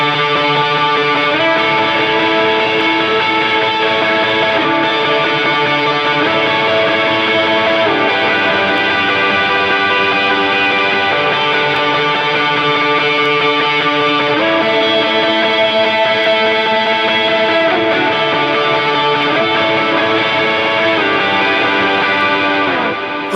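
Electric guitar strums sustained chords through overdrive and a chorus effect for the big chorus of a worship song, loud, dense and continuous with no talk.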